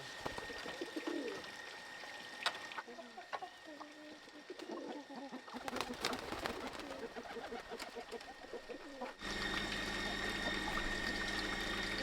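Pigeons coo and rustle in a countryside yard alongside chickens and other birds, a busy layered chorus of calls at moderate distance over a steady background hum.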